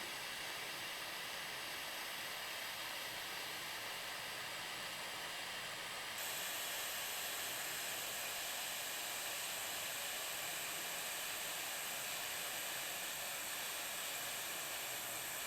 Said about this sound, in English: We have our wire all nice and torched.